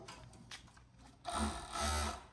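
A sewing machine stitches the sides of the waistband of a flared circle skirt in two short mechanical runs, moderately loud, with soft handling noises before it.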